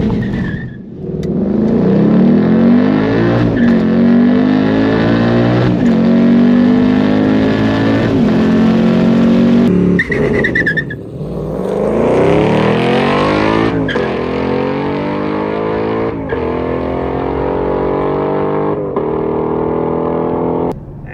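A 2023 Ford Mustang Mach 1 V8 engine and exhaust roar loud and close, sweeping up in pitch through two long full-throttle pulls, with a brief gap at the shift before a rise that then settles into a steady drone.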